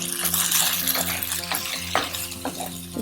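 Thin potato slices seasoned with turmeric, crushed red chilli and salt fry in a pan without water, with steady sizzling and scraping as they are tossed and stirred, plus a few sharper clinks against the pan.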